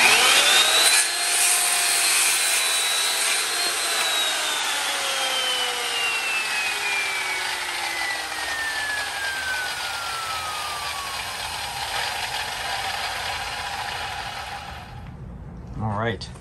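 A vintage Milwaukee circular saw whines steadily through a long cut, its motor pitch slowly sliding downward, before winding down and stopping near the end.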